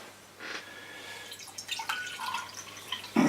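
Gold plating solution poured into a container at a plating station, giving trickling and dripping liquid sounds that start faint and become livelier splashes, fairly quiet and close.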